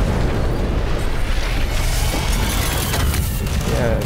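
A grenade explodes in Ghost Recon Phantoms, a loud, dense rumbling blast with a heavy low roar that fills the whole span, with voices faintly under it.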